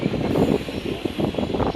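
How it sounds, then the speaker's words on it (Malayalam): A train pulling away from Ramanathapuram station on a night journey toward Rameswaram, heard from on board as a steady low rumble and rattle with rhythmic pulses of wheels and carriages, continuous and fairly loud. "വീണ്ടും ട്രെയിൻ ഇവിടുന്ന് സ്റ്റാർട്ട് ചെയ്തു, പോയിക്കൊണ്ടിരിക്കുകയാണ്"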